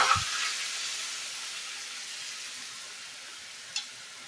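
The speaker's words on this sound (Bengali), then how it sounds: "এটা আমি তেলের মধ্যে দিয়ে দিলাম। দিয়ে এগুলোকে একটু ভেজে নেব।" Cardamom, cinnamon and cloves dropped into hot oil, a sharp burst of sizzle at the start that settles into a faint, fading hiss of frying, with a small clink near the end.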